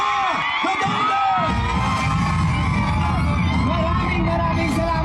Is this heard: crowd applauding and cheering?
yes